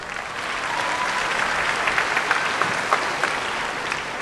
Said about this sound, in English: Thank you for that smattering of an applause